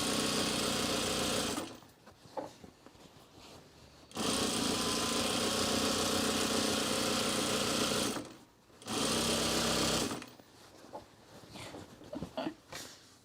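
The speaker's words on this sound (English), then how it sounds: "being under the machine head is weird, but I just kind of wanted to keep it going the same direction as the quilting" A sewing machine quilts through a thick sewn rug in long steady bursts of fast whirring stitching, pausing between runs, fairly close and with no talk.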